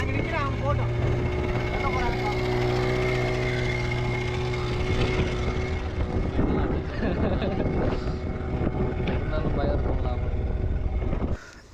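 A motor boat engine carries seven passengers through the Pichavaram mangrove forest, a steady loud drone running throughout with people talking over it.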